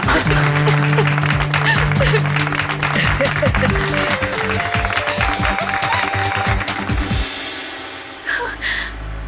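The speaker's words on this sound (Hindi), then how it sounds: "जोरदार तालियां" A television quiz show studio audience applauds after a big cash win, a loud, sustained wash of clapping with music underneath, tapering off near the end.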